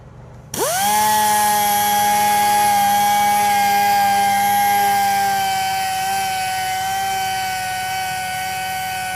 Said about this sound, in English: I'm going to switch up to an 800 grit disc to clean that up a little better.